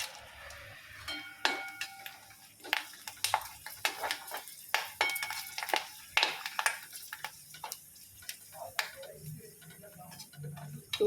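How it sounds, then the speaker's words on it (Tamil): Sun-dried kovakkai (ivy gourd) vathal frying in hot oil, crisp irregular pops and crackles with soft clinks of a utensil against the pan, close and intermittent. "சூப்பராக பொரியுது பாருங்கள்."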